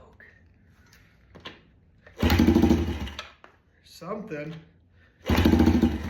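A Yamaha TTR 90 dirt bike is kick-started with the choke on, and its small engine catches in two loud bursts of revving separated by a pause, with a voice speaking briefly in between.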